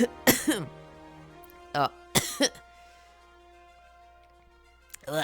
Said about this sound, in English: I got a cough there.